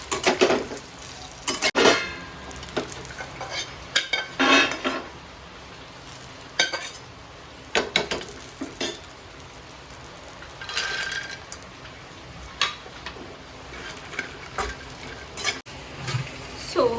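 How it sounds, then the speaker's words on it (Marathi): Makhana (fox nuts) roasting in a pan over a low flame, stirred so they rattle and scrape in bursts against the metal, with a soft sizzle underneath throughout. "मखाने भाजायला एक 5 मिनिटं तरी जातातच, कारण एकदम लो फ्लेमवर भाजावं लागतं."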